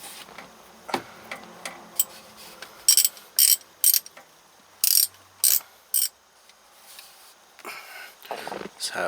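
Ratchet wrench loosening a 10 mm ignition coil stud nut on a GM Safari or Astro van, several short bursts of rapid clicking with pauses between, close and crisp, alongside quieter mechanical handling noises.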